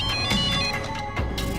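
A phone ringtone plays steadily, a bright repeating electronic melody, fairly loud and close, with no talking over it.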